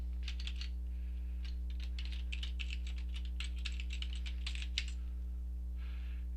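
Rapid keystrokes on a computer keyboard as a password is entered, irregular clusters of clicks close up over a steady electrical hum, with a brief pause near the end and no talking.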